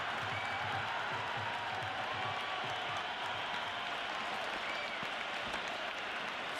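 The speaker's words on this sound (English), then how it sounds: "The crowd is electric right now." Steady, dense applause and cheering from a large stadium crowd in the Cricket 26 video game, continuous throughout, with a commentator's voice over the top.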